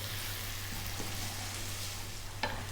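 Chicken and potatoes fry gently in oil, a soft steady hiss like light rain with a low hum underneath and one small clink of a utensil near the end, no voices.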